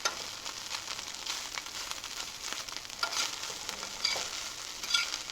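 Corned beef and potato pieces frying in a pan on a stove, a constant faint sizzle broken by scattered sharp pops and crackles, with no talking.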